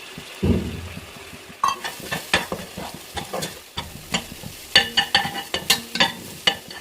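Two cracked eggs hit a hot pan with turmeric and garam masala for egg mint rice, a brief sizzle at first, then a run of close, rhythmic spatula scrapes and taps against the pan over faint frying.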